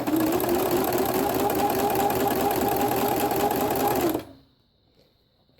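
A sewing machine stitches boning along a seam, running in a fast, steady close-up whir for about four seconds before stopping abruptly into near silence.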